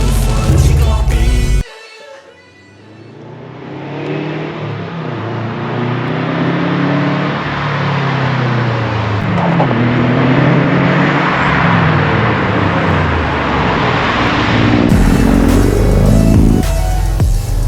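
A 2011 Subaru WRX engine revs loudly up close, rising and falling in repeated sweeping pulls with a rough, continuous growl between a brief quiet start and the end.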